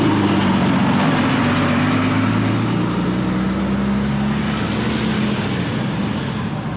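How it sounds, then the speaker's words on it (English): A bus passes along a road in a Fiji village, its loud, steady engine rumble and road noise filling the whole stretch close by with no talk over it. "Another one of these buses. I'll let it pass before I say anything,"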